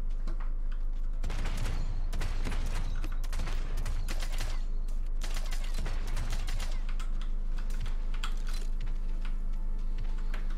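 Gunfire in the battle royale game Realm Royale, with irregular clusters of sharp shots and bursts running through most of the stretch, loud and close, over a steady low background drone.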